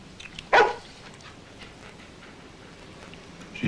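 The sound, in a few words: dog barking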